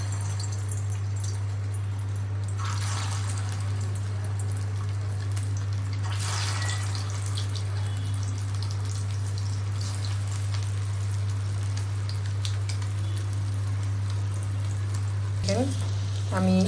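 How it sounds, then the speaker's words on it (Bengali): Shami kebabs frying one by one in hot oil in a wok, a steady sizzle with crackles and drips beneath a constant low hum, occasional clinks, no speech. "তো এখন আমি এক এক করে স্বামী কাবাব এটার মধ্যে দিয়ে দিব।"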